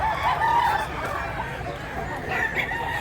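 At an early-morning poultry market, roosters crow repeatedly among clucking chickens, a busy overlapping din with a few louder calls standing out near the start and end.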